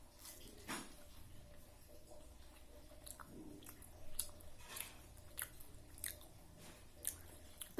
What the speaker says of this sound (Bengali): এমনি খাই।